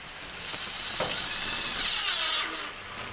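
A power drill drives a screw while a van window made of plastic and light alloy is being fitted, giving a short whirring burst that rises and then eases off, close and clear, with no talking.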